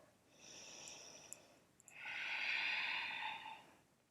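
Slow, soft breathing during a calm yoga session: one gentle exhale followed by a longer, fuller breath, quiet and close with no speech.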